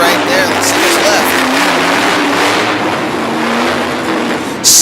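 A monster truck engine roars loud and continuous through a freestyle run in the heavy hitter class at an arena event in Harrisburg, Pennsylvania, with a commentator talking over the noise.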